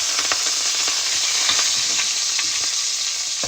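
Fresh coriander leaves sizzle and crackle in warm oil over a low flame for a tomato chutney, a steady close frying hiss with small pops and an occasional stir, no voices.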